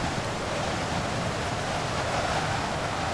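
Rain in the train game Train Simulator 2018, heard as a steady, even hiss of falling water that stays constant throughout, with no talk over it.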